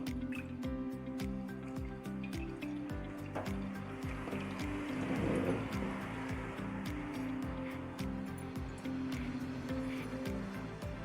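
Raw green mango being rinsed under running water in a kitchen, a continuous close splashing and trickling with a few wet squishes, over a faint steady tonal background.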